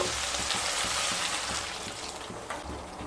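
Potato curry for a vegetarian aloo dum being sautéed over medium-low heat, a dense, even sizzle with faint rhythmic stirring scrapes, close but quiet and without voices.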